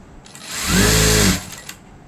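A sewing machine stitching a three-layer dress gives one short, close, loud motor whir lasting about half a second, rising and stopping abruptly amid quiet room tone, with no talking.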